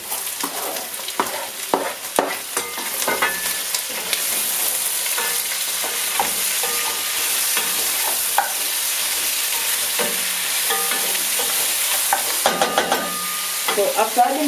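Tomatoes fry loudly in a pot with cooked beef and golden-brown onions, a dense close sizzle with scattered spatula clatter and stirring scrapes, busiest at the start and end.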